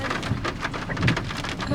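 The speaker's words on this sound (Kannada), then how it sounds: "ಮಳೆ ಸ್ಟಾರ್ಟ್. ಮಳೆ ಹಂಗೆ ಇರಿ." Steady rain falls during a drive through Coorg in the Western Ghats, a dense even patter with heavier splashes throughout.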